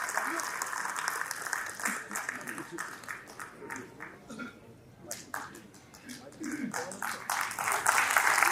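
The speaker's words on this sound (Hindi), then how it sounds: "एक बार जोरदार तालियां श्री अश्वनी उपाध्याय जी के लिए।" Audience applause welcoming a speaker onstage at a political gathering in India, sustained clapping from a sizeable crowd that dips briefly midway and swells louder toward the end, mixed with some talk.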